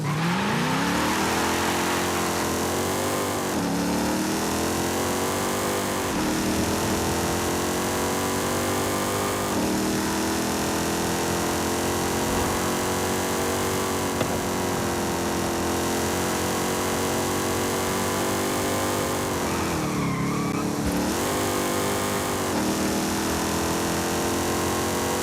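A 2014 Volkswagen Golf R with racing tires accelerates hard on a drive, its engine loud and close, revving up through the gears in repeated rising sweeps with brief dips at shifts, running continuously for the whole stretch.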